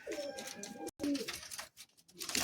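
Madrasi pigeons coo in low, throaty bursts, close by, with a short gap of silence partway through and some soft rustling around them.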